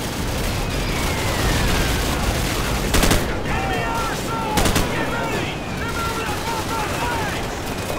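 Heavy gunfire from the video game Call of Duty Modern Warfare, with dense continuous shooting, sharp bursts and distant explosions filling a loud battle scene.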